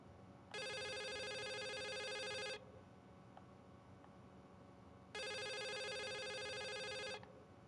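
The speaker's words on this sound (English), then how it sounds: "What the heck is the phone ringing?" Phone ringing in The Suicide of Rachel Foster game: two long electronic ring bursts of about two seconds each, separated by a quiet pause, clear and alone with no talk.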